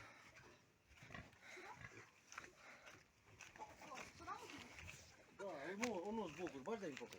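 Piglets grunting and squealing in rising, wavering bursts near the end, over ongoing farmyard noise and people talking.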